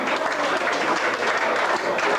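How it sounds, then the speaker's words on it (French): An audience applauds steadily with a dense, continuous wash of clapping at a sports or team event. "Il attendait les applaudissements."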